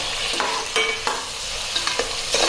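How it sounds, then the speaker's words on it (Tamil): Chopped tomatoes fry in a hot pan with curry leaves for a white kurma, sizzling steadily while a spoon scrapes and stirs them in several quick strokes. "தக்காளி போட்டு நல்லா தக்காளி போட்டு இது ரொம்ப வதங்கணும்"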